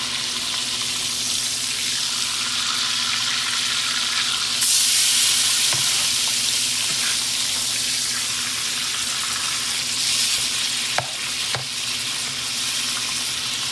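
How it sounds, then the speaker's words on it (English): Food boils and sizzles in a pan as a loud, steady, close frying hiss that lasts throughout, with a few faint clicks and a brief louder surge partway through. "It's boiling."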